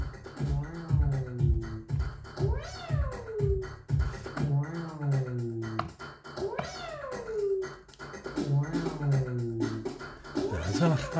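A pet cat meows repeatedly in rising and falling calls, close and fairly loud, with speech-like voices mixed in around it.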